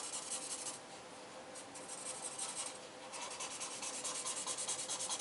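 A worn-out marker scratches and rubs across paper while a Superman comic is drawn, a close, continuous dry scraping with slight rhythmic strokes and no talking.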